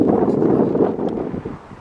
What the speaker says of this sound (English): it's pretty windy, I don't know how this is going to come out